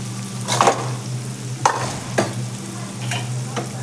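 Spices and homemade black masala sautéing in a pan, with intermittent stirring scrapes and a soft steady sizzle under a low hum, no voices.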